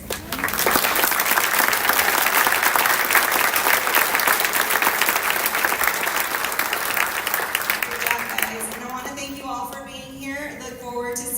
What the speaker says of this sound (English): I want to give one more round of applause to these seniors.